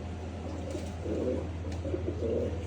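Pigeons cooing in a series of low, soft, rolling calls over a steady hum, moderately near.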